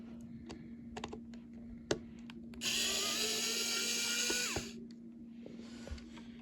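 A STREBITO mini electric screwdriver whirs for about two seconds while working on a Nintendo Switch, preceded and followed by quiet clicks and taps of handling against a steady low hum.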